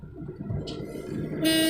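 A car horn sounds near the end of a driving lesson, a short honk cutting in over the low rumble of the car's engine.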